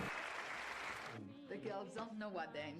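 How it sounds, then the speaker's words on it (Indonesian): Audience applause fills a film scene after a father's speech, a dense wash of clapping for about a second before it cuts away to someone talking. "Semua orang memberikan tepuk tangan meriah"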